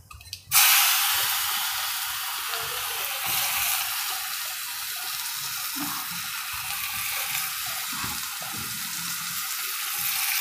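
Finely chopped onions and tomato drop into a hot pan and burst into a loud, steady hissing sizzle that starts abruptly and carries on evenly, with faint clinks of stirring beneath.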